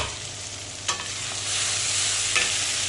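Capsicum and goat meat, including head and trotter pieces, frying in a pan with steady broadband sizzling, a couple of brief stirring scrapes, and the frying growing slightly louder partway through.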